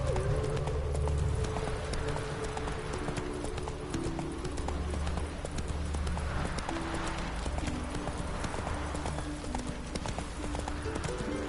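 Roach the horse gallops in The Witcher video game, a rapid rhythmic clip-clop of hooves running steadily under a dense game soundscape, with a faint voice briefly present.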